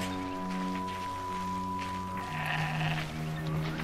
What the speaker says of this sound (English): That's a goat. Definitely a goat.